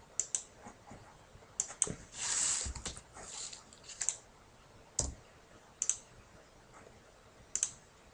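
Computer mouse clicks while working in accounting software, sharp isolated clicks spaced irregularly over several seconds in a quiet room, with one brief softer rustle among them.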